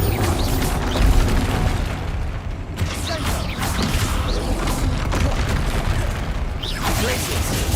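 A Bombarda explosion spell goes off in a Harry Potter video game: dense, loud, booming blasts and rumbling game effects fill the whole stretch without pause.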